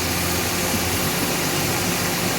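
A Toyota Vios engine idles steadily after a new ignition coil was fitted, with a close, even, continuous hum and no voices.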